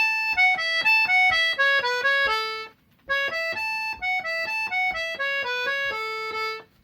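An accordion in a workshop plays a lively tune in two phrases, crisp repeated notes and chords moving in a steady rhythm with a brief pause between phrases, close and clear with no voices.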